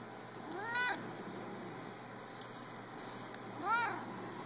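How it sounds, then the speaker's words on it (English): A laid-back cat gives two short, squeaky, meerkat-like meows about three seconds apart, soft and close over a quiet room hum. "He does his little squeaky meerkat meow while he's purring, like he's doing right now."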